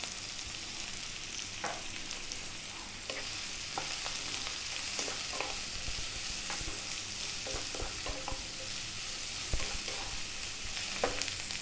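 Garlic sizzles in a hot pan with salt, pepper and chili powder, a steady close frying hiss broken by scraping stirs and small pops, with no voices.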